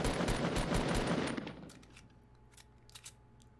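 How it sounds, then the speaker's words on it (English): Warning shots in Fortnite, a rapid automatic burst of gunfire lasting about a second and a half, loud and close, then fading into a few faint clicks and pings. "That's just some warning shots that you should go away"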